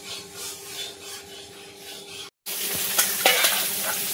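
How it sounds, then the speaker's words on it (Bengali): Fish fries in a pan with a steady soft sizzle and occasional stirring scrapes, breaking for a moment before returning louder and brighter. "এদিকে মাছ ভাজা চলছে"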